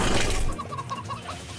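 A chicken clucks in a few short, quick notes against a rough, noisy background, fairly faint and brief.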